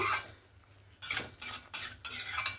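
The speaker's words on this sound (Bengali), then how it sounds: "এবার ভেজে রাখা চিংড়ি মাছ এখানে দিয়ে দেব দিয়ে আবারও সবজির সঙ্গে মশলার সঙ্গে ভালো করে চিংড়ি মাছটা দিয়ে মিক্স করে নেব" Prawns that were fried earlier are stirred into vegetables and spices in a pan for a village-style Bengali curry. A quiet stretch gives way to four distinct scraping strokes of a utensil against the pan, close by and with no talking.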